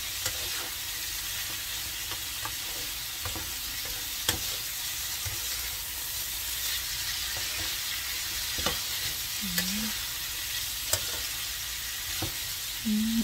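Rice fried in a pan and stirred continuously, a steady loud sizzle with scattered scraping and clicking of the utensil against the pan, close and unbroken, without talk.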